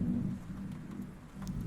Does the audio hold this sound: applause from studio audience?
no